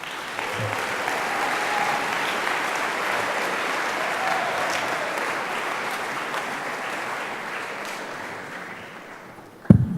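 Sustained applause from a banquet audience honoring high school student athletes at an athletic awards dinner, steady and dense for about ten seconds before fading, ending with a brief loud thump near the close.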